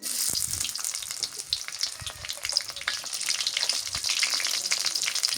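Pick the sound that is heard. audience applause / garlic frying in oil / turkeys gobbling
garlic frying in oil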